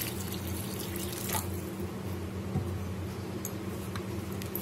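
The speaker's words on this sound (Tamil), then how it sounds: "தண்ணி பத்தாது, நாம கொஞ்சம் தண்ணி சேர்த்துடலாம்." Water pours and trickles steadily into a pot of green peas curry, a soft continuous liquid splash with occasional drips, fairly quiet.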